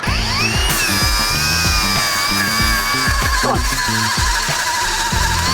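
An expensive cordless angle grinder on a new battery whines loudly and close, its high pitch sliding and settling while the motor labours in rhythmic pulses, with no talk.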